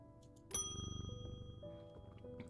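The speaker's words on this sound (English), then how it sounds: "Jupiter, I'm gonna ring the bell" A single bell struck in the video game Strange Antiquities rings out clearly with a bright attack, its metallic overtones sustaining and slowly fading over a couple of seconds, with softer chiming tones following.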